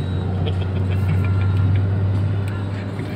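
Inside a 2007 Suzuki Grand Vitara automatic, the engine gives a steady, low, droning rumble as it accelerates to overtake a bus on the road.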